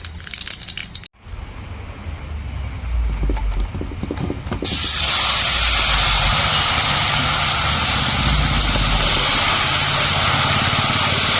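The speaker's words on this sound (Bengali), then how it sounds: "তেল গরম হয়ে গেছে আমি এখন ফোড়ন দিয়ে দেবো গোটা গরম মশলা আর গোটা জিরে" Whole garam masala and whole cumin seeds drop into hot oil in a kadai. After a few seconds of quieter clatter, a loud, steady hissing sizzle bursts out and holds. No one speaks.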